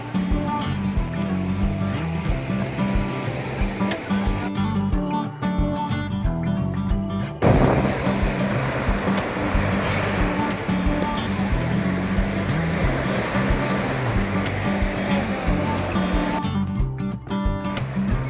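Ocean waves on a Goa beach near Sinquerim fort, a continuous wash of surf with rolling low rumble and a surge of breaking water partway through, sounding close and steady.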